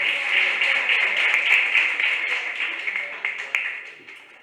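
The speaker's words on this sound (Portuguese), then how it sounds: "Uma salva de palmas para o seu Robson" Audience applause at a council swearing-in ceremony, a dense, even wash of clapping heard through a thin, band-limited live feed, fading toward the end.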